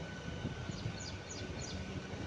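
Steady rumbling drone from inside a moving MEMU passenger train, with low rolling noise and a faint repeated high chirp or squeal over the constant hum.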